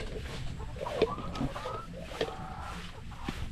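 Hens clucking near the coop of a small backyard flock, several soft, irregular clucks and calls at close range, fairly faint, with no talking.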